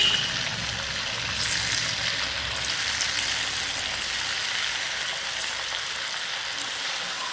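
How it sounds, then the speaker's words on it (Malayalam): Diamond-shaped rice flour snacks deep-fry in hot oil, giving a continuous bright hiss and crackling sizzle that stays close and fairly loud from start to finish with no voices. "ഇനി നമുക്കിത് ഫ്രൈ ചെയ്തെടുക്കാം. എണ്ണ നല്ലോണം ചൂടായിട്ട് നമുക്ക് ഓരോന്നായിട്ട് ഇട്ട് കൊടുക്കാം."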